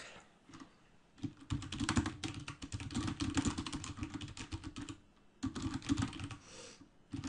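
Computer keyboard typing as a message is written in new software, fast irregular bursts of keystrokes, close and fairly loud, with a brief pause in the middle.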